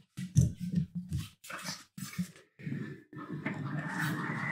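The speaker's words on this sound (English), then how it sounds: "That is the sound of a blind beagle getting lost under a table while I'm recording." A blind beagle lost under a table indoors, giving soft sniffs, snuffles and small whines with brief pauses, close to the microphone and fairly quiet.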